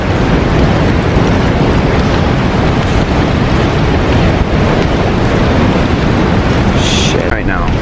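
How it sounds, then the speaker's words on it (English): A waterfall inside a cave gives a loud, constant broadband rush of falling water, with a brief voice near the end. "Look at the waterfall down."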